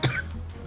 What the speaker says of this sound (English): You got a bad cough there.